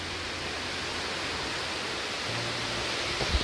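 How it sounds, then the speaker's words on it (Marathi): Heavy monsoon rain pouring down during the first downpour of the season, a steady dense broadband wash that stays loud and unbroken throughout, with no talking. "बघा बापरे काय पाऊस लागायला लागला आता"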